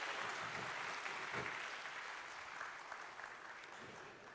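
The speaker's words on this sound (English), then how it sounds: "Round of applause," An audience at an opening ceremony applauds a volunteer called up to the stage, a steady dense clapping that holds fairly loud throughout, with no speech over it.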